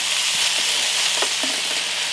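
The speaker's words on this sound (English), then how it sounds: "So I'm just going to toss my beef chunks into the frying pan." Beef chunks sizzle in a frying pan for a beef stew, a steady bright crackling hiss with small pops, close and continuous without talk.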